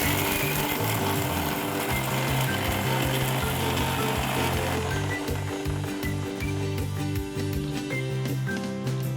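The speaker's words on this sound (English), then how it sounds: "I'm grinding it in my small jar" A mixer grinder coarsely grinding masala in a small jar, a loud continuous whirring and rattling roar that stays steady throughout, close up with no talking.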